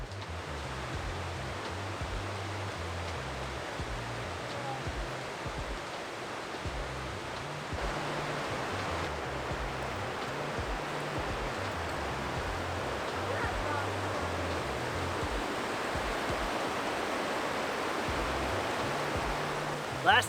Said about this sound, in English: we're on our way to the last waterfall, High Falls